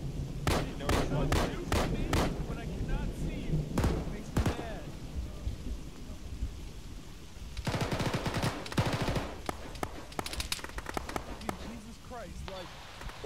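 Bursts of gunfire in ArmA during a ShackTac multiplayer session, rapid cracks clustered early and again in a later volley, fairly loud, with a squad's radio chatter and talk around them.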